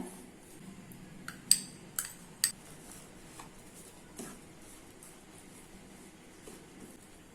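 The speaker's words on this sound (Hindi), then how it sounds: "तो अभी दोनों मसाले अच्छे से मिक्स कर लेना है।" Two masala pastes, one ginger, garlic and coriander leaf, being stirred together in a bowl: quiet scraping with a few sharp clinks of a spoon against the bowl, near and sparse.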